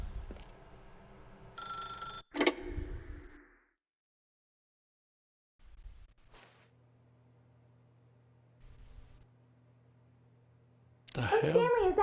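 A telephone rings in The Stanley Parable: Ultra Deluxe, giving a short burst of bright electronic trills early on, followed by quieter ambient tones and pauses.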